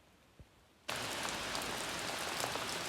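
Heavy lake effect rain starts suddenly and pours in a dense, loud, steady hiss after a brief quiet moment, with almost no wind.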